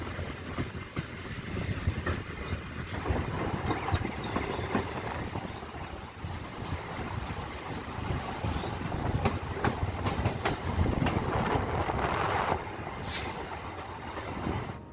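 A Katwa–Ahmedpur MEMU train in motion, with a steady loud rumble, rattling carriages and rhythmic clickety-clack of wheels over rail joints, recorded from on board with no talking.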